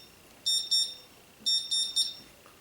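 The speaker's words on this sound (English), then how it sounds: "I'll see you next week as soon as this buzzer goes off." An electronic buzzer sounds in two quick sets of shrill, high-pitched beeps, three short pulses in each set, over a low background hum.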